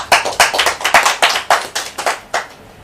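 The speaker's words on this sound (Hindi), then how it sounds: "एक बार पुरजोर तालियों से स्वागत कीजिए" A live audience claps loudly for a poet at a Holi ghazal and kavi sammelan evening, with dense, close, steady hand claps that fade toward the end.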